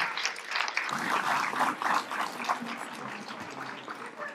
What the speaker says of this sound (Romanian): aplauze pentru doamna Olga Chiorian!